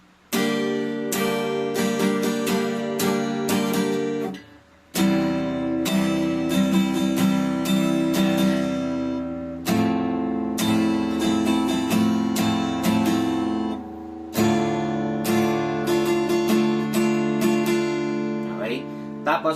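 An acoustic guitar plays a slow strumming pattern up close, with rhythmic down and up strokes across the strings, ringing chords and brief pauses between repeated phrases.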